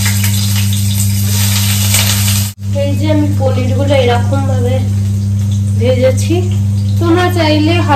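Paneer fries in a small amount of oil with a soft, steady sizzle under a constant electrical hum, while someone talks over the cooking.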